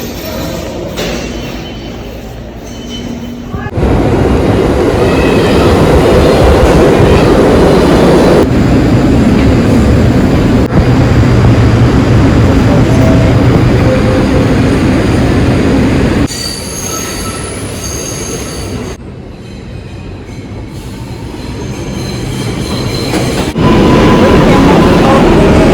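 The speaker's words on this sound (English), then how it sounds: "I'm just gonna take this train and go home." A train rolls past close by, its wheels squealing loudly over a heavy rumble that swells and fades in waves.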